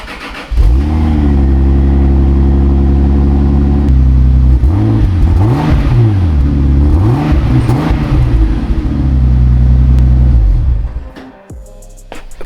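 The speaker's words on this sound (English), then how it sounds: "let's check out how the old exhaust sounds" A Toyota Supra's 2JZ engine with its stock exhaust idles with a deep steady hum, then revs up and down several times before cutting off abruptly near the end.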